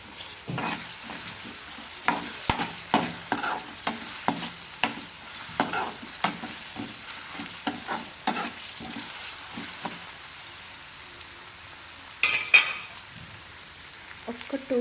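Onions frying in a pan with a little salt, a steady close sizzle broken by repeated sharp stirring scrapes and clinks at a fairly regular rhythm, with no talking.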